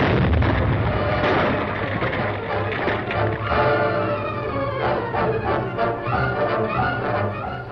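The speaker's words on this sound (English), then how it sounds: "The explosion had meant instant death for the desperate outlaw" A dense, rumbling blast of an explosion with crackling bursts and debris-like pops continuing for several seconds, loud and close.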